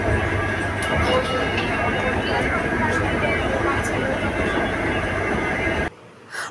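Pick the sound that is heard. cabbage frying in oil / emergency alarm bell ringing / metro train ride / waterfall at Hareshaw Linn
metro train ride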